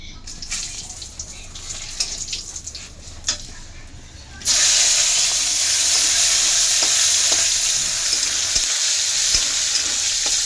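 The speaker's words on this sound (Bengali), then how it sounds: "দেখো আমার মশলাটা ভালো করে ভাজা হয়ে গেছে" Whole dried red chillies, cloves, cardamom and cinnamon frying in hot oil, a quieter stirring start giving way to a loud, steady, close sizzle that runs to the end.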